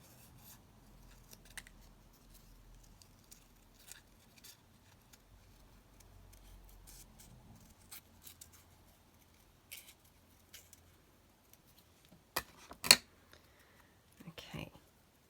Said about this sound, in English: Let's just see if I can just cut this flower out.